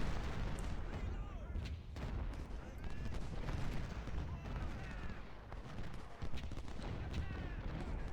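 Repeated booms of cannon artillery fire mixed with rattling gunshots in a dense American Civil War video game battle soundscape, continuous and moderately loud.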